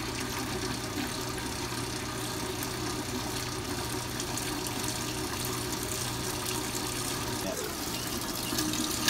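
Water running steadily through a No. 200 sieve while washing a soil sample, a constant hissing flow with an underlying mechanical hum, unchanging for several seconds.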